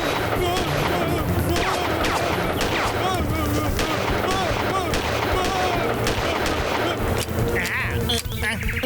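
Rapid cartoon gunfire in a kids' bears-and-monkey animation rattles loudly and continuously over busy music and effects, with bleating-like character noises mixed in, before the shots break off near the end.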